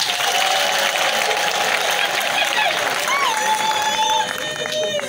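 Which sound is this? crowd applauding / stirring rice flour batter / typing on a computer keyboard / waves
crowd applauding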